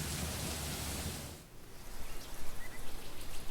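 Heavy cloudburst rain in the video game The Letter, a dense hiss of downpour that dips briefly, then returns with heavier, uneven splatter and a low rumbling beneath.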